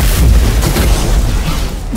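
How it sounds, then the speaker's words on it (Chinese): A bomb or missile blast in an animated fantasy fight: one continuous deep, loud rumbling boom fills the whole stretch without breaks, no voices over it. "还真是货真价实的炸弹，竟然瞬间耗光了我的真气。"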